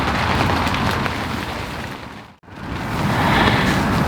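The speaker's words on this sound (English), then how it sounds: "It's still raining, but it has calmed down a lot." Rain patters on a fishing bivvy at Eagle Lake, Tees Valley, in April, a dense close hiss of drops on fabric that briefly cuts out midway before resuming.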